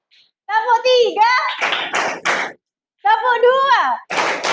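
A voice leads a classroom counting game while middle-school children answer with bursts of sharp group claps, the voice and the clapping taking turns in short, loud rounds.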